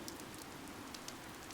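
Rain in the video game Fire Emblem Three Houses hisses softly and evenly, with a few faint droplet ticks, quiet and continuous with no voices.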